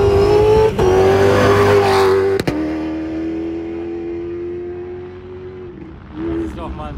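Dakar Rally car at the start, its engine revving hard then accelerating away as the pitch climbs and the roar fades into the distance, loud and close, with a commentator talking.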